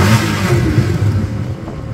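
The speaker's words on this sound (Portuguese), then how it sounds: "É um V8 borbulhante, como se estivesse fazendo gargarejos com pregos." A Mercedes-Benz C63 AMG sedan with a stage 2 tuned 6.2-litre V8 burbling up close, a deep throbbing rumble with a brief rev that settles back down, no talking over it.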